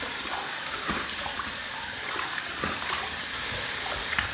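Tap water runs steadily into a sink for wetting the face before a shave, a constant close splashing wash with small drips, no talking.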